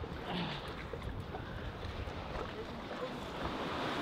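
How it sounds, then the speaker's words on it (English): Gusty wind roars against the microphone over the constant wash of rough waves during a storm on a sailing boat off Mallorca, a loud, unbroken outdoor rumble with no voices. "So the wind is very strong and the waves are very strong right now."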